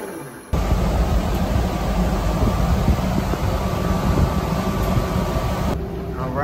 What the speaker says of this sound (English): I'm about to start this thing up and see what the audio sounds like from the air conditioner.